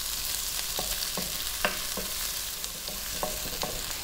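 Chopped onion sautés in a pan for Filipino sardine and misua soup, a steady close sizzle of hot oil with repeated soft scrapes and taps of a spatula stirring the pieces.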